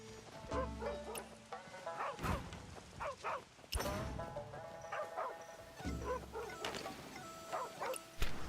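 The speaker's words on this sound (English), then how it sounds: "stop barking, dog" A dog barks repeatedly in short yips and woofs, fairly close, with quieter whimpering between bursts and some indoor thumps.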